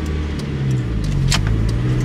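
Manual car engine revving as a learner driver pulls away, a steady close hum with rising revs and no talking.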